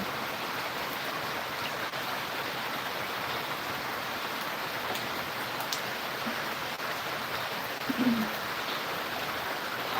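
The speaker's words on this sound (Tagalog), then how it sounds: "Lakas ng ulan dito sa amin," Heavy rain falls in a steady, dense hiss that continues evenly without pause, with no voices.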